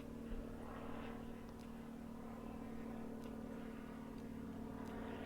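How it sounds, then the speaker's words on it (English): A propeller airplane passes over a hillside garden at midday, a steady, moderately distant drone that holds evenly throughout with faint outdoor background. "There's an airplane."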